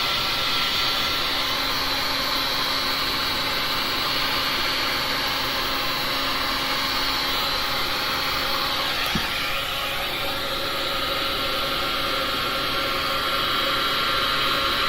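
A heat gun set to full heat blows steadily over freshly poured resin, a loud, continuous broadband roar of rushing air that holds nearly unchanged throughout, with a brief click partway through.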